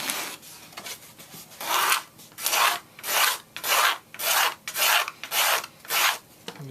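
A bent-tip blade used as a scraper strips glue from a wooden top or back plate for an acoustic kirar, making about nine rhythmic rasping strokes, each a short gritty scrape, close and clear with no talk.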